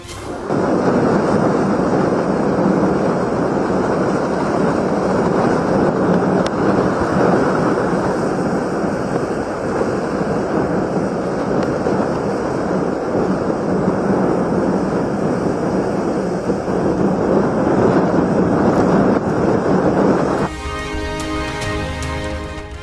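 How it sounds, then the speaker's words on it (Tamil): Strong wind and rough sea waves hit the shore at Vedaranyam as a cyclone approaches. A loud, steady roar of wind and surf holds for about twenty seconds, then gives way to a different sound. No voices. "வேதாரண்யத்தை புயல் நெருங்குவதால் பலத்த காற்றுடன் கடல் சீற்றம்."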